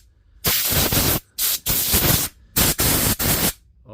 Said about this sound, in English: We'll dry it all out with the compressor and we'll put it all back together.